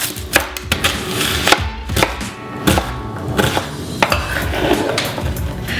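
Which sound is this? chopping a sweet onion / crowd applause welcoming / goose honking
chopping a sweet onion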